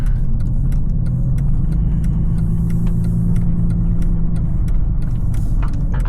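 A 26-year-old Mercedes-Benz driving, heard from inside the cabin as a steady loud low engine and road rumble with faint clicking ticks above it.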